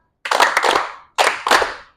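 Four sharp hand claps in a group clapping game, two struck to the left and two to the right, heard close and crisp as two quick pairs separated by a short pause.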